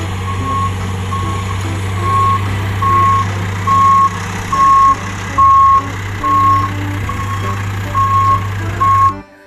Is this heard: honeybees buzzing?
no